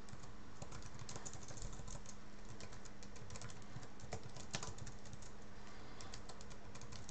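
Steady keyboard typing with a rapid run of soft key clicks over a faint background hum, with no voices.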